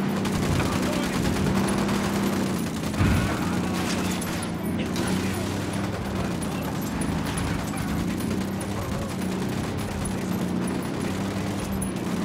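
Sustained gunfire bursts in the Ghost Recon Wildlands video game, a dense continuous fusillade with booming low end running through the whole stretch, mixed with game audio and occasional voices.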